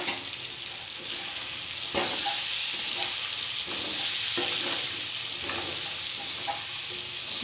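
Pork pieces stir-frying in a dry pan without oil, sizzling steadily, with periodic scraping strokes of the spatula stirring the meat every second or so; close and alone, no talk.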